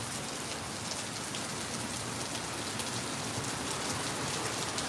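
Heavy rain pouring outside, a dense, constant hiss of drops striking surfaces, loud and unbroken throughout with no voices.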